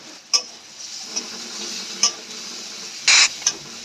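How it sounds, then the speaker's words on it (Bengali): Steady sizzle of onions frying in oil, with a few sharp clinks of a utensil against the pan scattered throughout. "পেঁয়াজ কুচি দিয়ে তেল দিয়ে একটু ভালো করে একটু ভাজা ভাজা করে নিলাম"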